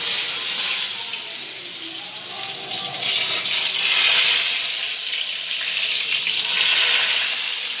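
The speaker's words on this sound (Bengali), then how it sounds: "লম্বা লম্বা বেগুন ভাজছি" Long slices of eggplant fry in a pan, giving a loud, even sizzle that swells and eases in gentle waves without any talk.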